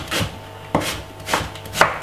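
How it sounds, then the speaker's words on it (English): A knife cutting a white onion on a cutting board, four crisp, close chops spaced roughly evenly apart, with no voices. "I have a white onion. I'm going to be cutting up."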